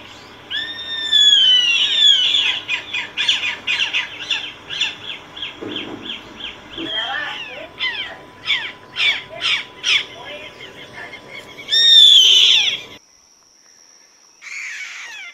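Chimango caracaras give a run of sharp, harsh calls and squawks, some drawn out and some in quick repeated bursts, fairly close and loud, with short quiet gaps between them.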